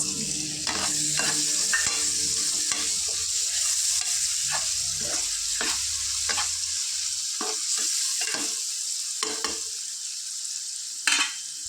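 Tomatoes fry in hot oil for an egg curry, giving a steady loud sizzle with repeated scraping stirs of a spoon against the pan throughout.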